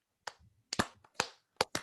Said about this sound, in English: can we get a round of applause for Ben?